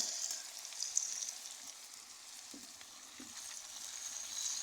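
Soft, steady sizzle of onion and ginger frying in a village cooking pot, with faint stirring clinks now and then and no talking.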